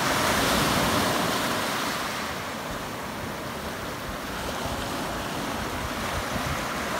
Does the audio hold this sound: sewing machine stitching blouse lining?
no